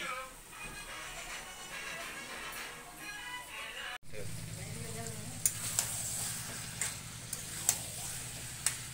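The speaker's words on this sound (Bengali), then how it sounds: "আমাদের মাংস কষা হচ্ছে, মটন কষা আর পালং শাক" Mutton being sautéed (kosha) in a pan alongside spinach: steady close frying sizzle that grows fuller partway through, with occasional sharp ticks of a utensil against the pan.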